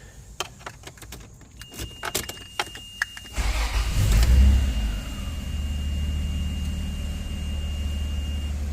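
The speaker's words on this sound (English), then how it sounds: "Let's jump in here and crank her over." A Toyota Land Cruiser FZJ80 cranks and starts inside a garage after some key jingling, revving up loudly once before settling into a steady, rumbling idle close by.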